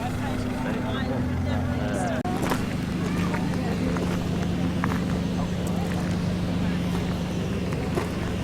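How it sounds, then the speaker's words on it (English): A Fiat Uno drives past at an outdoor classic car show, its engine a steady drone over a busy background, while people talk nearby. "Fiat Uno drives past."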